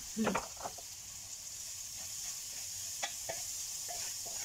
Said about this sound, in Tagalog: Ilalagay na natin ang ating giniling.